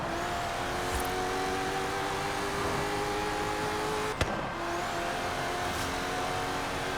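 A Bugatti Veyron in an online racing game holds a steady, loud high-speed engine drone at full throttle, with one brief click partway through and no voices.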